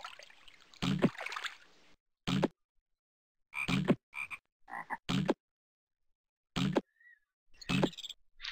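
Frogs croak in the Zoombinis puzzle game, loud, close, repeated croaks in short clustered bursts separated by near-silent gaps, with a faint watery trickle in places.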